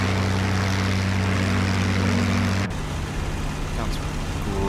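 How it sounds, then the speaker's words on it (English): A P-51 propeller plane engine in the IL-2 Great Battles flight game drones loudly and steadily, then shifts abruptly to a rougher, lower roar partway through, with no talking over it. "that actually sounds like a P-51"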